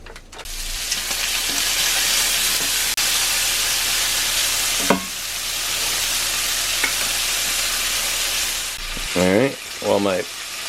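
Bacon fries in a cast iron skillet for a breakfast dish, giving a steady, dense sizzle and crackle throughout, with a short voice near the end.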